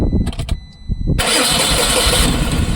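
Tata Ace Gold BS6 petrol engine starting, a few short cranking bursts followed by the engine catching and settling into a loud, steady idle.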